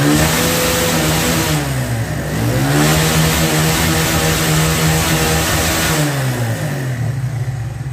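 A Honda CD 70 motorcycle engine runs loud and close, revving up and down repeatedly in steady surges with a continuous mechanical rumble and no talk.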